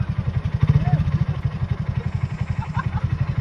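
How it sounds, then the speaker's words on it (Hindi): A motorcycle crosses a small river on the way to a waterfall in Karbi Anglong. Its engine throbs in a fast, steady pulse close by, with voices faintly in the background. "ये देखो वहाँ से इधर बाइक लेके आ रहे हैं"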